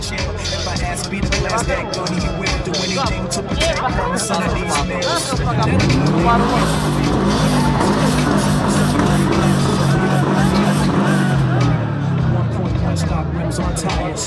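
Cars rev and launch in a KO Racing drag race, engine pitch climbing and sweeping over crowd hubbub, with people talking throughout.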